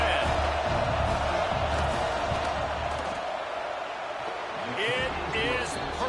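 Stadium crowd in a football video game roaring steadily as the field goal unit lines up, a constant loud wash of noise with a commentator talking over it throughout.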